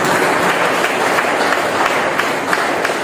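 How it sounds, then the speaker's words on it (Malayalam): Audience at an education award ceremony applauding steadily, dense sustained clapping from a crowd filling the room for a few seconds. "വലിയൊരു കയ്യടി."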